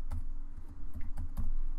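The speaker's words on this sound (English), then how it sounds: "I'm going to just click inside my little box and I'm going to type in" Computer keyboard typing while entering lettering text in EmbroideryStudio e4 embroidery software, a quick run of close, soft key clicks in uneven bursts over a steady low hum, with no talking.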